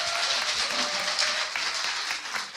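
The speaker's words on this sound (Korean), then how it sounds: "김어준 생일 축하 노래를 지금부터 여러분의 우레와 같은 박수와 함성으로 시작하도록 하겠습니다." A live audience at a Korean talk show breaks into thunderous applause and cheering to open a birthday song, a dense, continuous wash of clapping and voices throughout.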